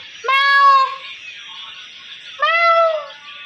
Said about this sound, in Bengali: এখানে রয়েছে ম্যাও বাবুরা ম্যাও ম্যাও করছে।